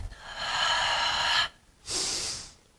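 Two slow, breathy exhalations during a grounding breathing exercise, the first long and airy, then a brief pause before a shorter second breath, close and clear.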